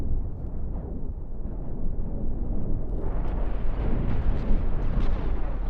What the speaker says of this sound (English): You got hit by a missile?